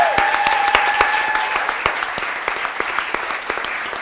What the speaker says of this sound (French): avec Sarah, que je vous demande d'applaudir également.